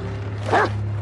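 A dog gives a single short bark close by over a low steady hum, with nothing else following.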